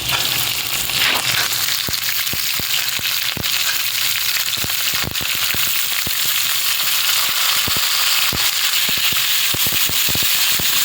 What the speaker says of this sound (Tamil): வெங்காயம் போட்டு கொஞ்சம் வதங்கட்டும்.